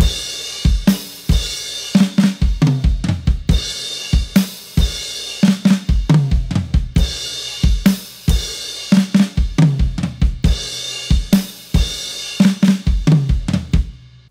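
Drum intro played on a kit: loud, punchy kick and snare hits with crashing cymbals in a driving, repeating pattern that recurs in bursts.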